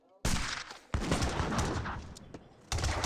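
Villagers firing guns in an Age of Empires 3 match, a dense, loud burst of overlapping shots in two waves with a short break between, set against battle noise and a voice talking.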